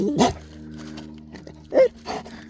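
A dog outdoors near maple trees barks and growls close by in a few separate bursts, with low rumbling between the louder barks.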